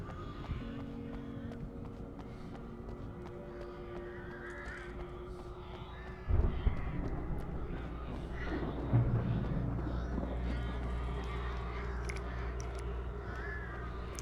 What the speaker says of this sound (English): Too many crows though